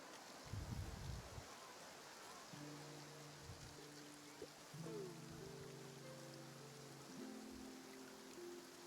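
Soft, steady rainfall hisses quietly in the Genshin Impact video game, with gentle sustained musical tones drifting over it.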